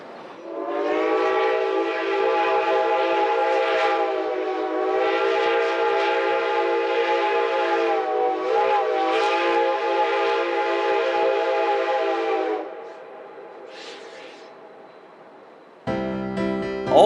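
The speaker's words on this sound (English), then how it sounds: "the real reason we came was to get video of the famous White Pass and Yukon Railroad" A White Pass and Yukon Railroad train sounds a long, loud, sustained chime whistle for about eleven seconds with slight pitch wavers, followed by a quieter fading tail and a brief final burst.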